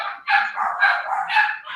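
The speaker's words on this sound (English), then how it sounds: "What's that noise? Oh, it's my dogs." Dogs bark in a continuous, overlapping run of yaps and yelps, loud and close, filling the short stretch without a pause.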